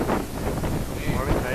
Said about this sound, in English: Oh my god, it's way too windy.